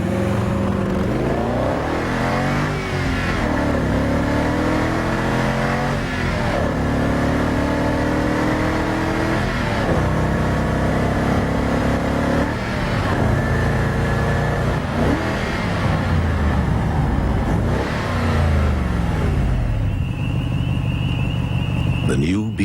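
A BMW 6 Series engine revs and accelerates loudly and steadily, with rising and falling pitch sweeps as gears change, heard under a voiceover for a car advertisement.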